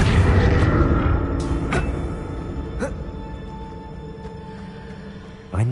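Confringo spell explosion in Hogwarts Legacy, a heavy booming blast up front that decays into rumbling debris and scattered clanks, with a fresh impact at the very end.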